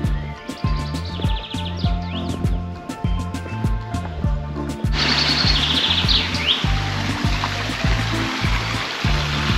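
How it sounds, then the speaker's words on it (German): Birds chirp and trill repeatedly near and far in a damp forest in the Meissen highlands, over a steady trickle of running water, with a louder wash of water noise joining halfway through. "Du hörst du nichts weiter als wie den Wind und die Vögel."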